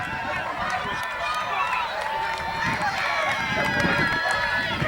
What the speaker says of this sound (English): You could hear the crowd.